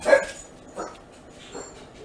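Somewhere in the distance, a dog gives three faint, spaced barks over a quiet indoor background.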